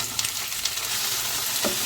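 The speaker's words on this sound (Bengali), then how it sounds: "ভালো করে ভেজে নিচ্ছি সব সবজিগুলো।" Chopped radish, flat beans, eggplant, potato and small peas fry in a hot pan with whole-spice tempering, giving a steady, close sizzle with soft stirring scrapes and no talk.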